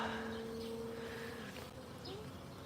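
Honeybees swarm around a hive during honey harvesting on a farm in Brazil, a dense, steady buzzing drone that fills the short stretch, close and continuous, with faint background sounds.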